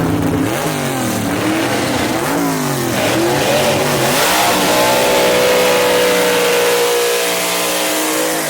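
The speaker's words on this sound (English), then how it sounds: "And Jared Perdue powers on with that Gene Fulton power down the racetrack to the win" Gasser drag race car at Shadyside Dragway accelerating hard down the dragstrip, loud and close, engine pitch climbing through a series of rising gear sweeps before settling into a steady high roar.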